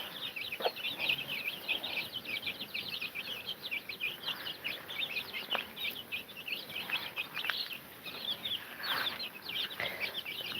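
Small chicks and hens cluck and peep busily after being let out from a day shut in, forming a dense stream of high chirps at moderate distance with occasional louder calls.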